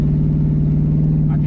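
A 2001 Ford Mustang GT with its cat-back exhaust deleted gives a steady, close, deep engine drone for a brief moment, with no clear rise in pitch.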